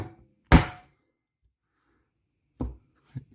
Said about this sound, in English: now it needs quite a bit of banging. I find hit it once, see what's done,